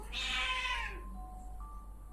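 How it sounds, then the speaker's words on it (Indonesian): A house cat gives one loud, drawn-out meow close by, then falls quiet, leaving a low steady hum in the room. "sorry ya, kucing aku"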